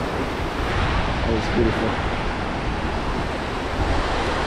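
Waves break on Nessebar South Beach on Bulgaria's Black Sea coast, a constant broad wash of surf mixed with wind buffeting the microphone, with someone briefly speaking over it.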